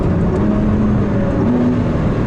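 A Ford GT sports car drives steadily on smooth tarmac along a countryside road, its engine a loud, continuous drone with a low tonal hum throughout, no talk over it.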